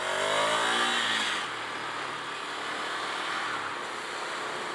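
A Ducati Scrambler Desert Sled motorcycle engine revs hard, the pitch rising as it accelerates through the first second. It then settles into a steady, strong drone, heard close and with no talk.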